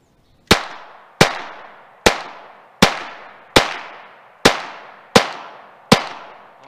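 A Glock 44 pistol firing .22 Mini-Mag rounds, eight sharp, loud, close shots at an even pace of roughly one every 0.7 seconds, each with a brief ringing decay.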